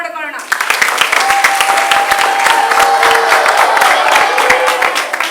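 A school audience at Chitrakoota School in Bangalore breaks into loud applause and cheering, with sharp individual claps and whoops rising over a dense crowd roar after a brief opening sound, and some voices mixed in.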